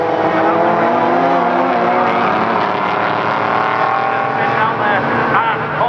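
Rallycross cars racing at Croft circuit in October, engines roaring continuously and loud as a car is thrown sideways into a corner, with a commentator talking over the noise.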